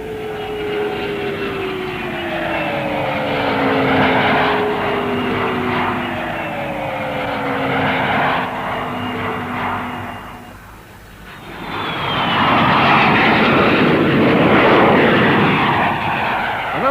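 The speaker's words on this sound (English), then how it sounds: "Now a new look in civil transport aircraft, the Trident. With 3 Spey bypass jet engines grouped at the rear" Trident airliner with three rear-grouped Spey bypass jet engines passing at an air show, a loud sustained roar with descending whine tones, dipping briefly then swelling again as it goes by.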